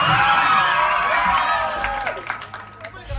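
Audience at a Malayalam Mappilappattu stage show cheering and clapping, a loud crowd roar with whoops that fades into scattered claps, heard with voices mixed in.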